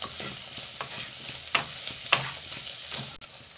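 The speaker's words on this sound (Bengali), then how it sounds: "খুব ভালোভাবে এবার মিক্স করে নেব সবজির সাথে" Vegetables with salt and sugar are stirred in a frying pan: a steady sizzle with repeated scraping strokes of the spatula, a couple of them louder, and no talk.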